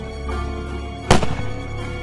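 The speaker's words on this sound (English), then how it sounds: "Awakened by the gunshots and Alice's anguished cries" A single sharp gunshot cracks out over a low background rumble, followed by a brief echoing tail.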